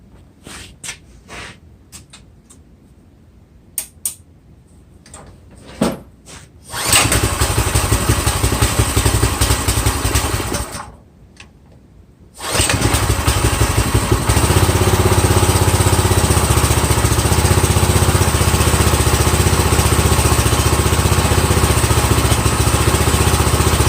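A Harbor Freight 212cc small engine fitted to a vintage, more than 50-year-old barn-fresh tiller starts up and runs at a steady drone, cuts out briefly, then restarts and keeps running loud and close.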